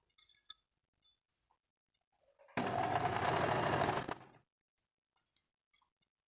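A sewing machine stitching lace onto a kurti, one short continuous burst of about a second and a half, close and clear, with faint clinks and handling sounds before and after.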